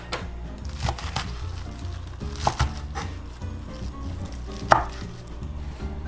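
A knife slices through leafy green stems on a cutting board, giving a few crisp, sharp chops spread out over steady background music; a single word is spoken briefly.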